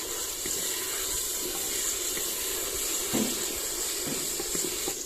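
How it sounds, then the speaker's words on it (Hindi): Ginger garlic paste and onions fry in a pan with a steady, close sizzling hiss that runs evenly through the whole stretch, with no one speaking. "अदरक लहसुन भून लिया है, अब इसमें डालते हैं चिकन।"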